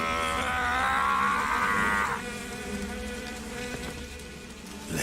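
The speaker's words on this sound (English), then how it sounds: "Pain is said to possess the power to control his hornets at will" Hornets swarming around The Pain in the video game Metal Gear Solid 3, a loud, close, droning buzz that holds for about two seconds, then thins into a quieter hum that lingers.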